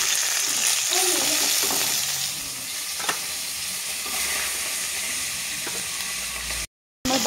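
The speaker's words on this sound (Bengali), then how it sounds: "আমার বাকি মাছগুলো ভাজা হয়ে গেছে" Pieces of rohu fish frying in hot oil give off a steady, moderately loud sizzle with faint bubbling, broken by a momentary silence near the end.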